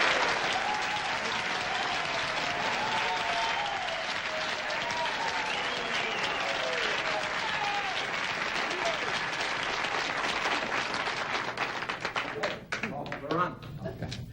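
Sustained studio audience applause on a 1970s late-night talk show, steady dense clapping throughout with a few voices and shouts mixed in, thinning slightly near the end.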